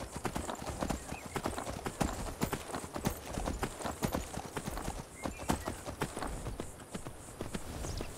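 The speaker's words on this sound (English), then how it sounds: "Horse" Horse hooves clip-clop in a steady, brisk rhythm on a hard surface, close by, with a faint whinny and some background rustle.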